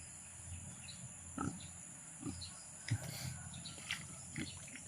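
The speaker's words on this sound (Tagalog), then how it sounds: "Sumasagot yung baboy tol." A pig grunts five or six times in short, low bursts spaced about a second apart, nearby over a steady background hum.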